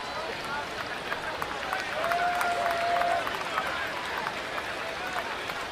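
Shirt-sleeve evening crowd at a baseball stadium for an Orioles vs. Red Sox game, a steady broad murmur and cheering that swells briefly, with a whistle-like tone rising through the middle.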